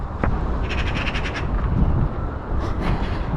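Several crows call outdoors, a quick run of harsh caws in the middle and two more near the end, carried over steady wind or background rumble.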